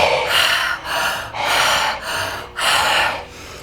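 Open-mouth breathing, four long airy breaths in and out in a steady rhythm, close and fairly loud, each breath separated by a short pause.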